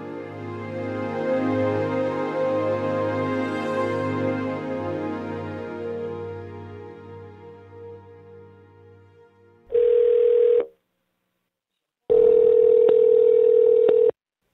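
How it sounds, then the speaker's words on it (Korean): A telephone dial tone hums steadily for several seconds and slowly fades, then two loud, flat electronic tone bursts follow with a short silence between them as a call is placed. "제작진이 지금 또 한 명의 중독 회복자의 목소리를 듣기 위해 전화를 걸고 있습니다."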